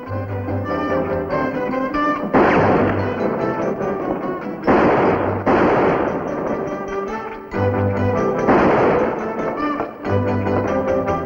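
Gunfire in a western film rings out in sharp, loud bursts roughly every two and a half seconds, each crack followed by a ringing tail over a steady tonal music bed.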